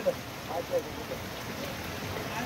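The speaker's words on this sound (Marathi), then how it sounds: "पाऊस बघा चालूच आहे कंटिन्यू. वाढत वाढत चाललाय." Heavy monsoon rain falls continuously at a fish market, a dense, even wash of noise with a few faint voices and clinks in the background.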